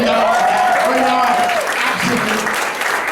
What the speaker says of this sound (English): let's give a nice warm round of applause for summer 2011